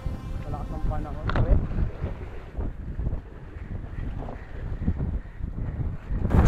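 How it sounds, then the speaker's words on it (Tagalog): Strong wind buffets the microphone in heavy, uneven low rumbles, with a few gusting surges and a faint voice underneath, on a basnig fishing boat. "Sobrang lakas ng hangin dito."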